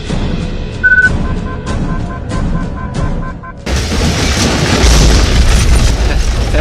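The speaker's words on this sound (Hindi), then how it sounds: "ये लो, बॉम्ब से उड़ा दो।" A bomb goes off in a Hindi action movie: background music plays, then a sudden loud blast breaks into a sustained, rumbling roar that fills the rest of the scene.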